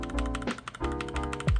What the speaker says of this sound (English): because I recently lubed my keyboard, the switches, I lubed them, and they sound pretty good